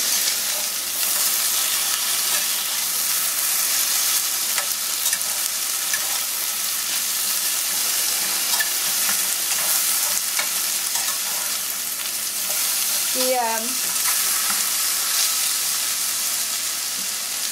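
Vegetables roast in a cast iron pan with a steady, close frying sizzle and soft stirring scrapes throughout, broken near the end by a brief higher-pitched squeak.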